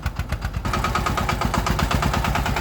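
The diesel engine of a 4x4 kuliglig farm vehicle is revved with a quick blip of throttle, giving a loud, close, rapid chugging pulse that speeds up and holds steady.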